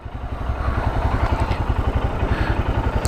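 A Royal Enfield Scram 411 motorcycle rides along with a steady, thumping single-cylinder beat, loud and continuous and close by, with wind rush layered over it.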